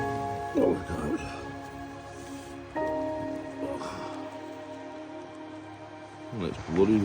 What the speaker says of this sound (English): Oh, it's bloody raining.